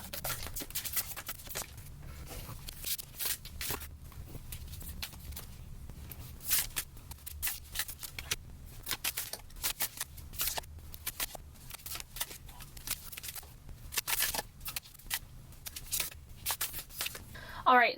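Tarot cards laid out one by one for a Celtic cross spread on a table, giving soft, repeated card slaps and slides in an irregular rhythm, close and fairly quiet, with occasional faint talk.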